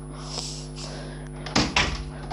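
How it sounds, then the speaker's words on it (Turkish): A door in the Turkish-made game House Flipper swings shut with two close, solid thuds over a steady low room hum, with no talk. "Şu kapıyı kapatayım."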